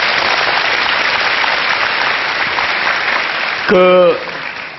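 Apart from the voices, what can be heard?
audience applause welcoming a guest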